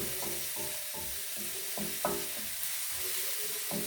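Risotto with Morteau sausages being stirred in a sizzling pan: an even bed of frying hiss with a rhythmic run of spoon scrapes and soft knocks, close up.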